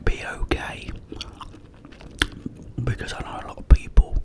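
Gum chewing paired with soft whispering in an ASMR setting, with close, moist mouth clicks and smacks scattered irregularly between breathy whispered speech.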